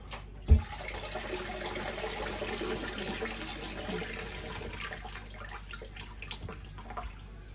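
Running tap water splashing steadily over cabbage in a sink or pot, a continuous wash of noise throughout with a brief thump near the start.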